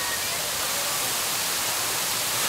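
Water pours down a cascade fountain in downtown Gwangju on a sweltering heatwave day, where people cool off beneath it. The rush is a dense, continuous roar with no breaks.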